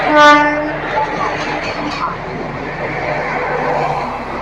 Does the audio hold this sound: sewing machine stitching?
no